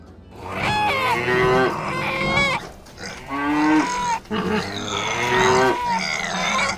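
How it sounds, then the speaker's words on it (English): Several loud, drawn-out cow moos close by, one after another with short pauses, long and wavering in pitch. "are you hearing cows and chickens?"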